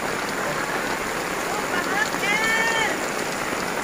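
Steady rain falls on an open-air market, a dense continuous hiss with faint voices in the background.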